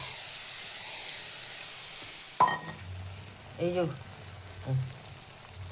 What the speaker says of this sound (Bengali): আচারটা ফুটছে